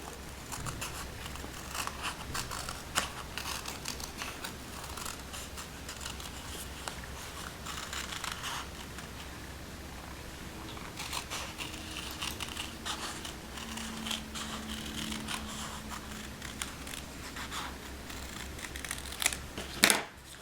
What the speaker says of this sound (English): I'm going to trim some of this excess vinyl from around my design